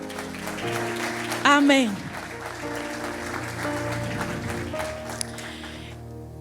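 A church congregation applauds during a Spanish-language sermon, the clapping blending with sustained organ-like music and a brief sung phrase, while a voice speaks over it.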